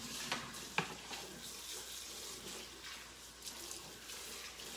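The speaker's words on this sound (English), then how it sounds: "Rinse this one out, get it out of the way." Water sloshes and splashes as a clear stamp is rinsed in a tub of water, with a couple of sharp splashes early on and soft trickling afterward, quiet and close.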